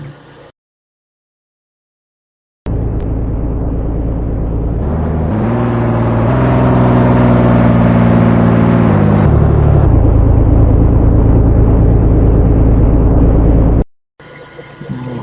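A car engine rises in pitch and revs for several seconds, holds a steady loud drone, then shifts down and cuts off abruptly as the vehicle comes to a stop, all close and loud.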